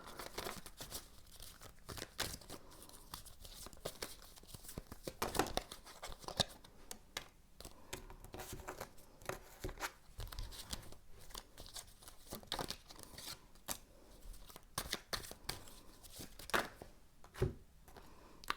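Tarot cards shuffled by hand up close, giving a steady run of soft papery riffles and crinkly snaps that keep going at an uneven rhythm, with no talking.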